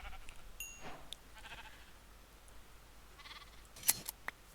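A sheep bleats faintly a couple of times in Minecraft, short soft calls against a quiet background with a few small clicks.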